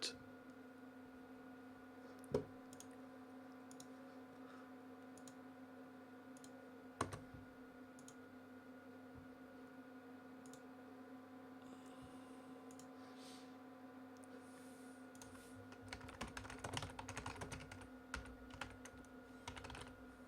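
Keys clatter on a computer keyboard, sparse and faint at first under a steady electrical hum, then in a denser burst of quick taps near the end.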